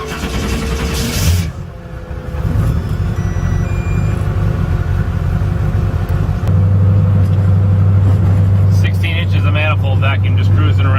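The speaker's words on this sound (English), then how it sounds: "we're going to take this little RX7 for a cruise so you can see just basically how docile it is and how powerful it is" A 1650 HP Mazda RX7 sleeper cruising on manifold vacuum gives a steady, loud low engine drone that deepens and strengthens partway through, with road noise continuous throughout.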